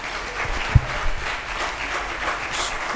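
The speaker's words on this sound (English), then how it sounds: "Give him a round of applause." Audience applause at a book signing event with the Minnesota Attorney General, steady moderate clapping heard from a distance throughout, with one sharper knock near the start.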